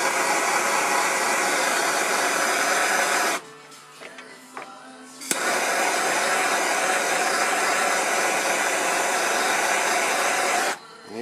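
A pneumatic orbital sander smooths the seam of a prosthetic socket, giving a loud steady hiss and whine that cuts out briefly in the middle with small clicks, then runs steadily again before stopping.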